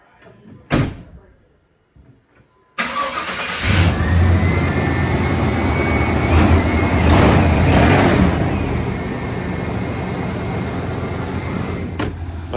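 A door thumps, then after a short pause a 1995 Chevrolet Silverado pickup engine cranks and catches, settling into a loud, steady idle with a brief rev, close by.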